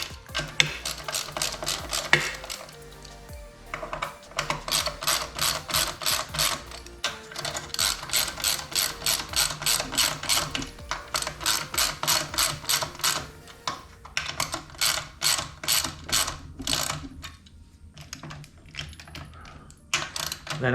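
Ratchet tightening a bolt during a 2021 Yamaha YFZ450R build, with repeated fast clicking runs broken by short pauses, close and fairly loud.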